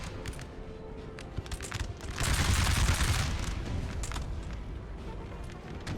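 Massed rifle volleys in a Napoleonic-era battle in Napoleon Total War, a dense crackling fusillade that swells louder midway and continues as steady distant gunfire, with scattered sharper shots throughout.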